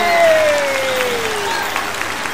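Audience applause at a Táo Quân 2022 comedy stage show, steady loud clapping welcoming a male singer, with a descending musical tone sweeping beneath it.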